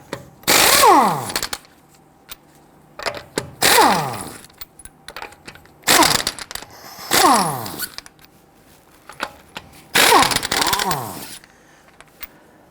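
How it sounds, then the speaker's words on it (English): A power tool fitted with a 21mm socket loosens the lug nuts on a 2008-2013 Infiniti G37 in five separate loud, close bursts of about a second each. Each burst ends in a falling spin-down whine, with quiet gaps between them. "Using a 21mm socket, loosen and remove your lug nuts."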